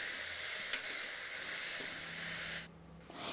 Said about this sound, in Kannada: ಕಟ್ ಮಾಡಿ ಇಟ್ಕೊಂಡಿರುವಂಥ ಟೊಮೆಟೊನ ಕೂಡ ಸೇರಿಸಿ ಟೊಮೆಟೊ ಸಾಫ್ಟ್ ಆಗೋ ತನಕ ನಾನಿಲ್ಲಿ ಫ್ರೈ ಮಾಡ್ಕೊತಾ ಇದ್ದೀನಿ